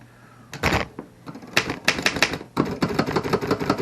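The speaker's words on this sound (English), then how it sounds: "You don't hear it real loud on an Underwood because of the loud typing on an Underwood." Fast, loud clacking keystrokes from a 1917 Underwood No 5 manual typewriter, coming in irregular bursts of sharp strikes with short pauses between, close up and heard alone.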